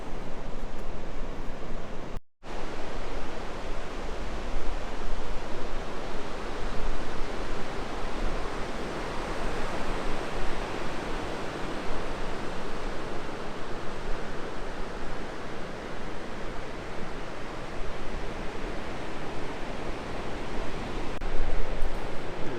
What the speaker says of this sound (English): this is the beach at Brown Bay